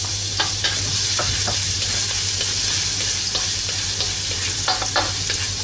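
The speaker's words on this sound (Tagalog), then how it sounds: "So, mainit na itong ating oil. Magsatay na tayo ng garlic." Garlic sautés in hot oil, a steady close sizzle with scattered crackles and a low hum underneath, loud and unbroken, with no talking.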